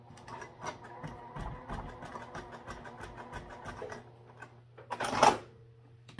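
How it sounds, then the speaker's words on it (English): A sewing machine stitches backpack fabric in quick, steady rapid-fire bursts, pausing briefly before a louder clunk near the end, quiet and close with no talk. "try and get it to the sewing machine here"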